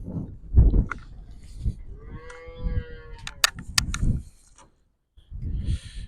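A few cattle moo and low calls nearby at electric fence training, interspersed with rustling and a brief mechanical whine, then a short pause before more lowing.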